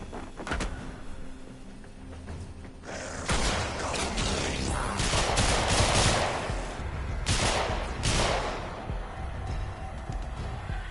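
Repeated video game gunfire from a weapon fired at a target in a Mesa damage test: loud, dense bursts of shots that keep going with only brief pauses, close and with no talking.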